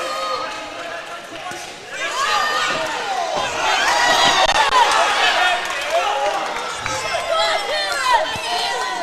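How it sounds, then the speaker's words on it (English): A crowd at a live boxing event roars and cheers, swelling louder after the first couple of seconds and staying high, while a commentator talks over the noise and thuds sound now and then. "You can definitely hear the crowd."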